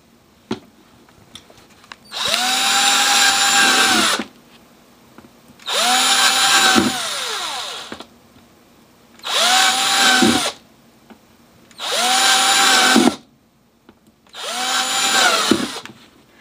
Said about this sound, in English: So I'm going to drill about 20 holes in here.